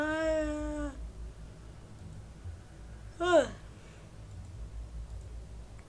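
A cartoonish cat in a Roblox game gives a drawn-out meow with a brief rising yowl a few seconds later, both fairly faint, with talk in the background.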